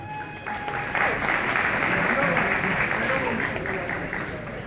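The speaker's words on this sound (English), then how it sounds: "Let's give a warm applause" Applause from guests at an NPP political dinner in Toronto, many people clapping in a steady, fairly loud patter that builds after a short quiet start, with faint chatter underneath.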